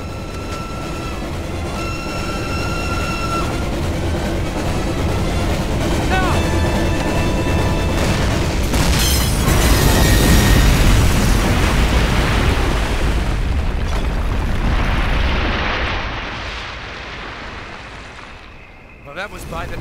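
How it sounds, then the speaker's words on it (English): A train bridge blown apart by explosives in Call of Duty United Offensive: a loud, deep, sustained blast and rumbling debris roar that swells mid-clip, then fades, over a busy combat backdrop with game voices. "Detonate on my command"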